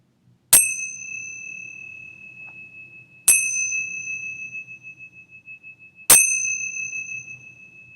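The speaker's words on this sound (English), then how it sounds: "preparing to open your eyes as I ring the bell." A meditation bell is struck three times at even intervals, each clear ringing tone sustaining and slowly decaying in a quiet room, with a faint low murmur underneath.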